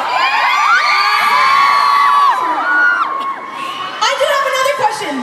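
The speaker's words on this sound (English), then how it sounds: "What are you screaming about?" A huge concert crowd of about 11,000 fans screams and cheers at a show in Newcastle, high-pitched shrieks swelling loudly and continuously, then rising again in bursts.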